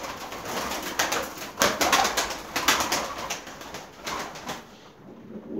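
Pigeons coo in soft, repeated throaty phrases close by in a breeding coop, with a rustle of movement and a brief flutter among the calls.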